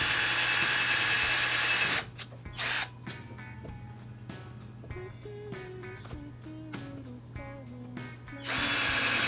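A power drill drives screws into bookshelf wood through pilot holes, with loud whine at the start and end and a middle run of short stuttering bursts and clicks as the motor speeds and slows, close by with no talking.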